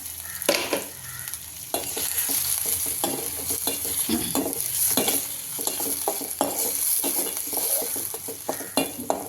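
Onions and tomato sautéed in a pan for egg fried rice, a continuous sizzle under brisk repeated scraping and stirring of a spatula, close and fairly loud throughout.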